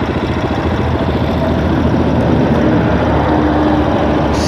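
A carbureted Lifan X-Plore 200 motorcycle engine idles close by with a steady, lumpy low putter and irregular thumping pulses, with the exhaust knocking against the bike, loud and uninterrupted.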